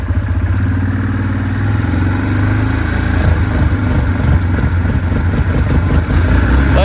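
Engine of an abandoned Kodiak 400 ATV with a gunked carburetor running while ridden, a loud, close, steady putter that shifts into rougher, uneven revving partway through, with no talk over it.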